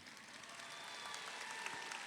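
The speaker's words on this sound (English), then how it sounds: "Let's give these students a big round of applause for their accomplishments." The crowd at the Del Norte High School 2022 graduation ceremony applauds in a steady, distant wash of clapping that sounds faint and even throughout, with no speech over it.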